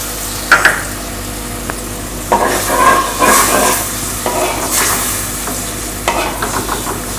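Sauce sizzles in a pan with fried garlic and ginger, steady frying hiss broken by loud stirring scrapes and clinks, close and without talk.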